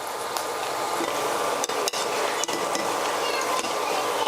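Garam pakoda batter frying in oil over a medium flame, a steady dense crackling sizzle with a few faint utensil clinks.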